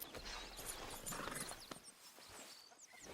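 Horse hooves clip-clopping in Red Dead Redemption 2 at the stables, a steady walking rhythm of soft thuds close by over faint outdoor ambience.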